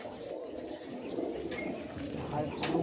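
Giribaz pigeons coo softly after being let loose at a backyard loft, low murmuring calls under faint room noise and a few scattered sounds.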